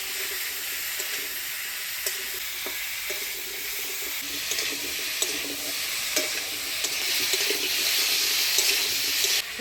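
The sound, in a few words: stirring vegetables with turmeric and salt in a pan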